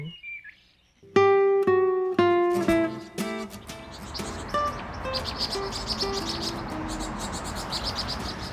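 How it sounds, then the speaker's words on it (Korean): A flock of vinous-throated parrotbills gives rapid, high, bright chirping calls, clustered and overlapping, close and loud at first then continuing as a busier chatter. "붉은 머리 오목눈이가 무리의 결속을 다지는 소리입니다"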